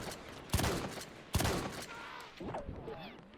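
Machine gun fire in the WW1 video game Between Empires: two sharp, loud bursts a moment apart, followed by fainter distant shots.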